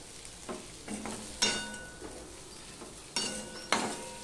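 Pointed gourd pieces are stirred in a pan with fried prawns, giving a soft sizzle under quiet, irregular scrapes and clinks of a spatula against the metal.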